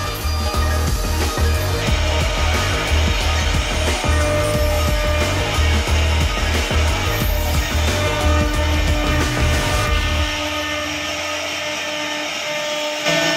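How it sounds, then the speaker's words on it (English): A modern wood chipper processing wood churns loudly with rapid rhythmic thumps over a heavy mechanical drone, then settles into a steadier, smoother running hum near the end. "Modern wood chipper machines today have become indispensable tools for those who need to produce large quantities of firewood."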